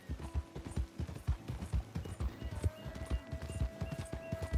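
Horse galloping in Red Dead Redemption 2, with steady rhythmic hoofbeats clopping throughout, close and clear, under a faint sustained musical tone and mechanical rattle.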